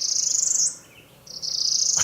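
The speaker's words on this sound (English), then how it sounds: "Pablo, that song that you just heard, that siren song, is the sound of your very own new nemesis bird." A bird sings a high, rapid, buzzy trill, breaks off briefly, then resumes with a second trill, close and clear against a quiet background.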